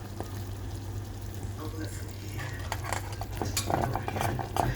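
Coconut milk being stirred in a pot while it is cooked down into latik for biko with tapol rice, with soft scraping and clinking of a spoon against the pan and a low steady cooking hum, growing busier toward the end.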